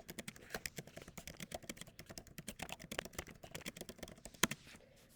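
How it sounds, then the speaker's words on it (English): Steady, close typing on a computer keyboard, with rapid irregular key clicks and one sharper tap near the end, quiet and with no talk. "Then I'm typing the sentence on the line."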